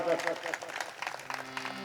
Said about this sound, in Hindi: एक बार तालियां बजाओ जबरदस्त